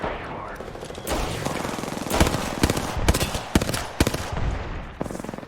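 Bursts of rapid spam gunfire in a shooter video game, sharp shots cracking close and loud in irregular clusters over a busy, noisy game mix.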